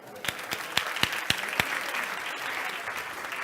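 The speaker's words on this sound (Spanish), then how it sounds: "Muy bien, un aplauso." Audience applause at a lecture, beginning with several distinct loud claps and swelling into steady clapping from a room of listeners, sustained to the end.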